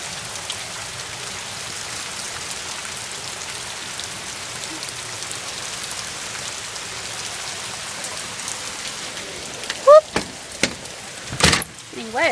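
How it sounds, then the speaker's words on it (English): Steady rain pours throughout, a dense hiss of drops on surfaces, with a few sharp clunks and thumps near the end. "It's raining badly, Mama."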